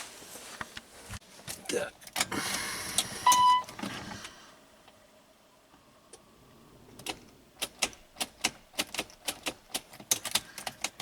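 Attempted start of a Great Wall Hover engine after timing belt replacement: a whirring, clattering burst for a few seconds, a lull, then a run of sharp, evenly spaced clicks as the engine fails to catch.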